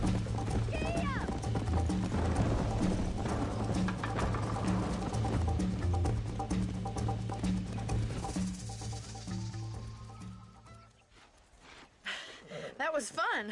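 Horse hooves galloping in the Red Dead Redemption video game, a rapid clip-clop rhythm under music and conversation that fades and thins toward the end.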